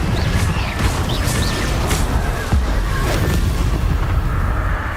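A Confringo explosive spell goes off repeatedly in the Hogwarts Legacy video game: dense, continuous booming blasts with whooshing bursts that fill the whole stretch at steady loudness, with no clear gaps between impacts.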